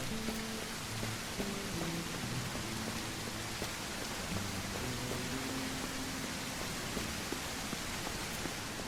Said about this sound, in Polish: deszcz się mocno nasilił